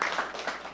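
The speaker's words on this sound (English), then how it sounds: "we can clap." Meeting attendees at a county board of supervisors session clap together in a sustained, moderately distant round of applause that holds steady throughout a brief moment.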